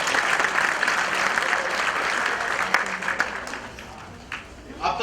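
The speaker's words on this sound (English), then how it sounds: "मेरे लिए एक बार ताली बजाइए." An audience at an event applauds loudly and steadily for several seconds, a dense wash of clapping that thins toward the end, with talking underneath.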